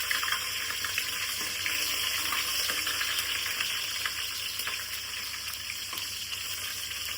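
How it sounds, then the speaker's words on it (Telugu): Green chillies and whole spices frying in hot oil for Telangana-style bagara rice, a steady, dense sizzle that runs continuously and evenly throughout, close and fairly loud with no voices. "ఇది కొంచెం వేగుతుంది"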